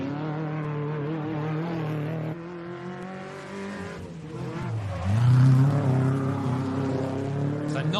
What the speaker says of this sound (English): Non-turbo, you can see him revving it out a little more than the turbocharged cars and stuff